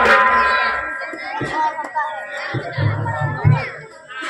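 Crowd noise at an outdoor Ramleela stage performance in Barabanki, a steady murmur of many voices with children calling out, close and fairly loud, with a voice speaking over it.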